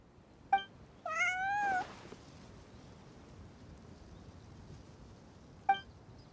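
A cat named Bonnie in the Genshin Impact video game gives a short high chirp, then a longer rising-and-falling meow, then another brief chirp near the end, each clear against a quiet background.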